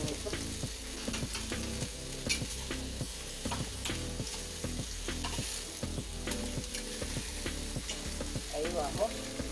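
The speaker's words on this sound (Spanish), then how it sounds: "Ya en este punto voy a empezar a remover los chiles, porque si se pone muy tostado le da un sabor amargo." Chiles and tomato toast and sizzle in a hot pan, a steady close crackling fry with frequent sharp pops and spatters throughout, no voices.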